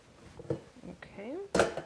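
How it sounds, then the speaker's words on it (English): Four eggs cracked one after another into a mixing bowl in a home kitchen, giving a couple of sharp, close taps and clinks against the bowl rim, with a voice heard briefly between them. "So I'm going to just crack them eggs in here."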